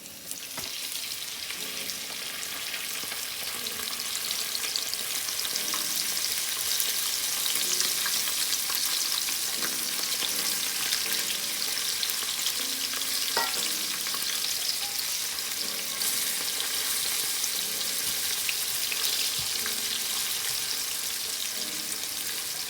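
Flour-dusted fish frying in hot oil, a steady, dense sizzle and crackle that runs close and loud the whole way through, with a few faint clinks and stirring noises.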